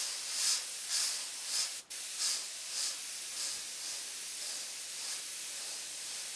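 An airbrush lightly misting paint for shading, giving soft repeated bursts of fine hiss roughly every half second, close and fairly faint, with no voices.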